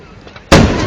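A Fourth of July firework in West Allis, Wisconsin, a single loud sharp boom after a quiet half second, followed by a rumbling decay.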